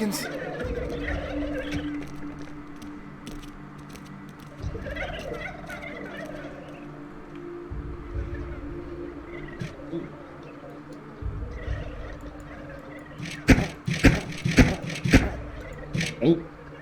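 Video game chickens from a flock of 88 cluck in short repeated bursts that grow louder and busier near the end, with a voice talking intermittently underneath.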